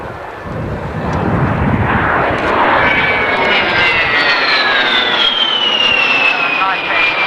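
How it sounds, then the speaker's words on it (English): An A-10 military jet sweeps past at an air show, its loud rushing roar with a descending whine holding steady throughout, close and dominant with no talk over it. "Here comes the A-10."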